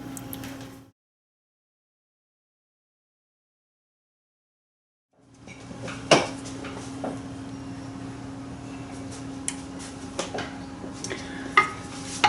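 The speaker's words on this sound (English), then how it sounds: "And then we're going to add the sugar and stir that" Sugar stirred into melted butter and milk in a pan over very low heat, with soft scraping spoon strokes and a faint simmer, a silent gap early on, then occasional sharper taps of the utensil against the pan.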